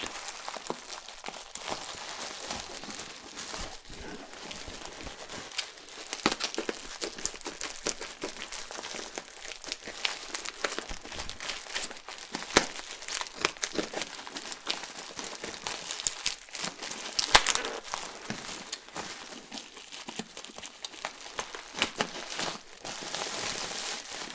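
Continuous close crinkling and crackling of bubble wrap, with irregular pops and rustles rising and falling, no talking.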